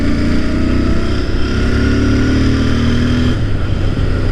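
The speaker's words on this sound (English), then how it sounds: "God, I love how this bike sounds." A Royal Enfield Interceptor 650 motorcycle engine drones loud and steady while riding, a continuous close rumble with a slight shift in tone near the end.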